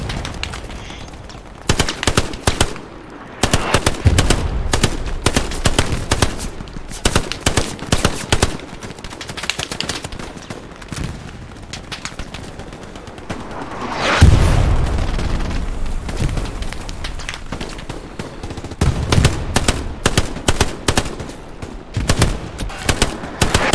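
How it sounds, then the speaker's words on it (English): Gunfire in the video game Hell Let Loose, fired through thick smoke: loud bursts of machine-gun and rifle fire in uneven volleys, with a heavier boom near the middle. "Now I'm just gonna shoot. I can't see anything, so I'm just gonna shoot."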